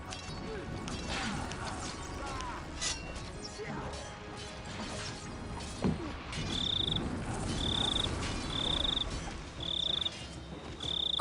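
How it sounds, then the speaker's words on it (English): Crickets chirp in the SpellForce: Order of Dawn game, a series of evenly spaced high chirp bursts over a busy bed of clanks, crashes and ambient noise, moderately loud. "Crickets, please silence."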